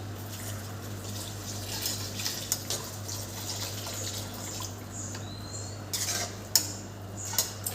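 Beetroot halwa stirred in a pan, with a few sparse metal spoon clinks and scrapes, mostly toward the end, over a steady low hum in a quiet kitchen.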